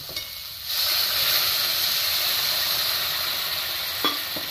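Hot water poured into a pan of banana stem and potatoes brings a sudden rush of hissing steam and sizzle that holds steady, with a couple of light utensil knocks near the end.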